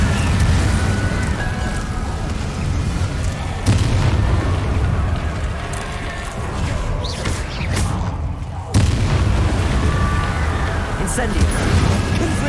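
A fire spell cast in Hogwarts Legacy combat during the Professor Fig battle: loud, dense roaring bursts, each a sudden heavy boom, repeat every few seconds over a constant rumbling bed of fiery, explosive noise.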